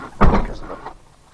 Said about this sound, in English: I'll shut the driver's door.